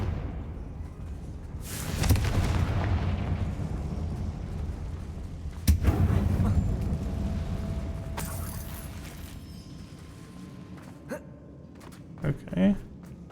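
Confringo, a blasting spell in the Hogwarts Legacy video game, fires off with a sharp burst around two seconds in, then another crack and rumbling blast follow, set among game effects and a speaking voice.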